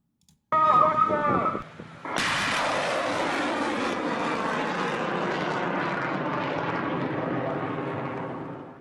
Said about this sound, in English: You can see here the missiles being launched.